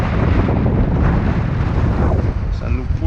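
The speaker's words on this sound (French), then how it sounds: "Et bon vent qui vient de la terre cette fois." Strong offshore wind blowing from the land across a kayak on the Basse-Côte-Nord coast, a heavy continuous rushing buffet that roars and gusts steadily, with a voice speaking briefly underneath.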